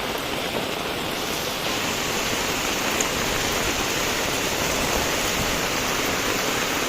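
Heavy monsoon rain falls in Mandangad, an even, unbroken wash of dense hiss that stays loud and close throughout with no voices.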